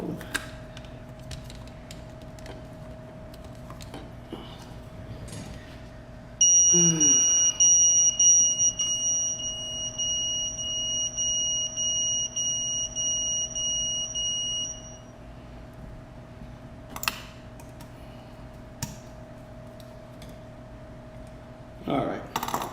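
Phone sounding a high, steady electronic alarm tone in a workbench setting during a Rekon 6 FPV drone repair, starting suddenly and pulsing for several seconds before stopping, over a low continuous hum and occasional clicks.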